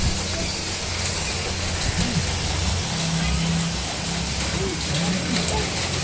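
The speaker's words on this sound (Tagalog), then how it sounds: "Hanggang ngayon umuulan pa siya." Rain falling outside, a steady, dense hiss that fills the whole stretch without a break, with a faint low rumble underneath and no talking.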